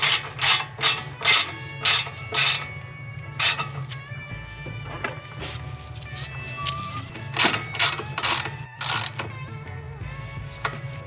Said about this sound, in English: As a matter of fact, I can tighten it all the way now